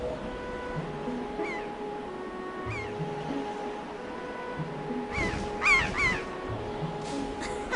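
Giant bird in The Legend of Zelda: Wind Waker letting out harsh caws, a few scattered early and a louder cluster near the end, over sustained in-game tones and ambience.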